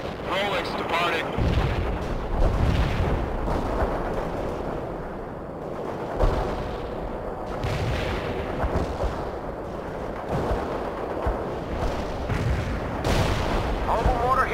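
Gunfire and mortar fire in the video game World in Conflict, a dense, continuous battle din of booming blasts and crackling shots rolling on at steady loudness, with voices under the combat.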